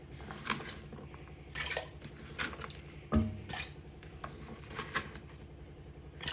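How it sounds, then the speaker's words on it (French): Vegetables and chicken bones for a bone broth are dropped into a cast-iron cocotte, producing irregular clunks, knocks and rustling scrapes, close and moderately loud over a low background hum. "Donc on va tout mettre dans la cocotte."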